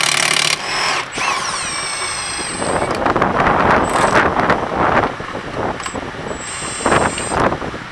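A power tool, likely an impact driver, whirs loudly and steadily on a 14mm bolt holding the rear shock of a 9th-generation Honda Civic, with brief high whines and a few short pauses in the buzzing.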